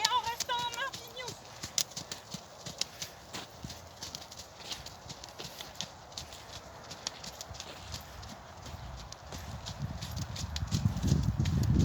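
A horse being worked in hand with a new bridle clip-clops at a walk, its hoofbeats sharp and irregular against a quiet outdoor background, with a low rumble building near the end.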